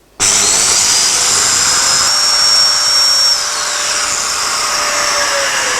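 A domino joiner cuts a slot in wood for a simple drawer. The loud, steady high whine of the cutter starts abruptly and runs continuously, with its pitch shifting slightly as the blade plunges into the workpiece.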